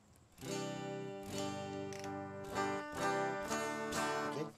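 A clean, unprocessed electric guitar recorded direct through an audio interface plays a sequence of chords, each strum thin and direct with no amp tone or effects.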